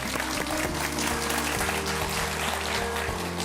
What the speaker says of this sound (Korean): 이현준 교수님께 큰 박수 부탁드립니다